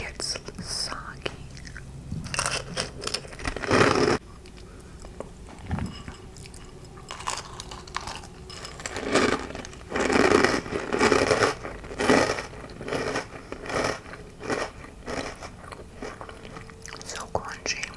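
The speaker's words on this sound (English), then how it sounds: "let's get a bite of this cereal before it gets soggy" Crunchy Froot Loops cereal chewed close to a microphone in an ASMR setting, with repeated crisp bites and crunching in bursts, interspersed with whispered speech.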